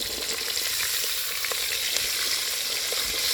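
Beer-battered mushrooms, prawns and onion rings fry in a pan at a cabin, giving a loud, steady, close sizzle with small popping spatters and no talk.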